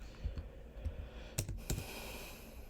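Keys clack on a computer keyboard in a few quiet, scattered clicks, with a short burst of quick taps near the middle over a low room hum.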